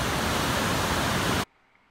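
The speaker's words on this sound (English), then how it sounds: "this is one of the many raging river flows coming down here" A raging river near Shaver Lake rushes in a dense, loud, close roar of white water that cuts off abruptly after about a second and a half, leaving near silence.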